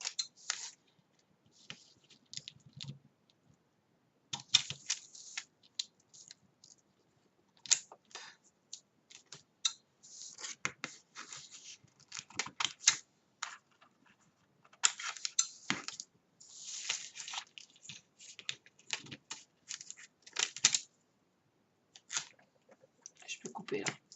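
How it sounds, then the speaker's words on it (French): Scissors snip through corners and scraps of adhesive paper in a quiet room, giving close, crisp cuts in irregular bursts with pauses between, while someone talks in between. "je coupe mes angles, je coupe mes bouts de papier."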